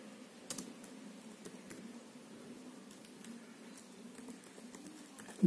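Keys tapped on a Dell G7 laptop keyboard in a quiet room, a short run of faint, light clicks at close range with a low steady hum underneath.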